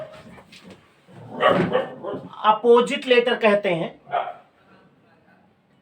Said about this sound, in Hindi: कुछ आवाज आई, कुत्ते हैं, परेशान ना हो, कुत्ते हैं।